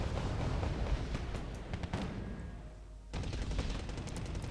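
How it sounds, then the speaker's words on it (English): An artillery strike in the real-time strategy video game Wargame Red Dragon, a dense continuous rumble of rapid blasts and gunfire that eases slightly before surging again, loud and sustained. "Large artillery strike here coming in, doing unfortunately a lot of damage to both Arnold and Tobinais."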